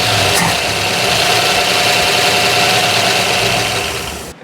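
The engine of an abandoned 1966 Ford Mustang GT Fastback, brought back to life, idles loud and close with a continuous rumbling drone and a steady low throb.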